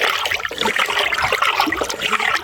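Liquid organic fertilizer mixed with humic acid being stirred in water, giving a steady sloshing, trickling swirl that runs continuously at close range with no one speaking.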